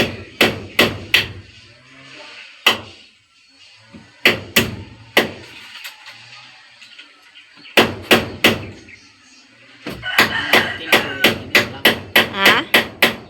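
A hammer strikes in loud, sharp, close blows, often in quick bursts of three or four with pauses between, picking up into a faster run of hits near the end.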